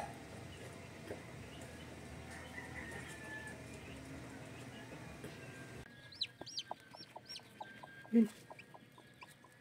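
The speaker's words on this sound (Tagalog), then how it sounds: "naririnig kong nagkukurokotok itong Golden Boy Gilmore brood hen namin" A Golden Boy Gilmore brood hen clucks softly at a hatching nest, with faint chick peeps and rising calls joining in the second half over a quiet background hum.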